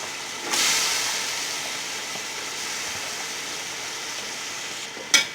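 Chopped potatoes and capsicum with biryani masala frying in a pot for chicken vegetable pulao: a sudden steady hiss that fades slightly over time and ends with a brief clatter.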